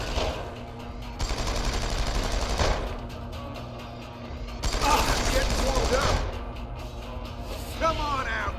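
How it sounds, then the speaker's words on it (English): Machine gun arm fire in Deus Ex Human Revolution: sustained loud bursts of rapid automatic gunfire in several long volleys, with brief pauses and faint voices between them. "that machine gun arm isn't looking so cool"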